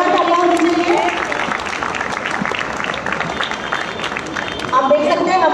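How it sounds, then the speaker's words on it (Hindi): A crowd at a Mumbai Police dog squad parade at the police headquarters breaks into sustained, fairly loud applause, with a voice speaking over it. "देखिए दोनों तालियां होनी चाहिए।"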